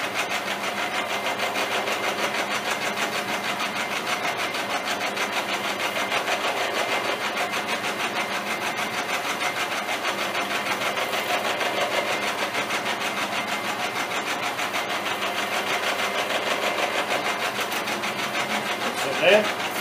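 A machine tool cuts metal with a steady, continuous grinding whir that holds at an even level for twenty seconds, and someone talks over it.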